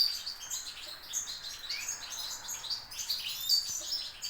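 Goldfinches in an aviary chirp and twitter steadily, several birds calling over one another in quick, bright bursts at moderate distance. No voices.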